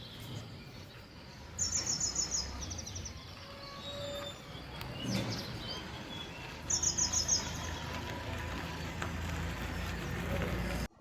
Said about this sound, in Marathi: किती छान वाटलं ना पक्ष्यांचा आवाज आणि सुंदर सकाळ.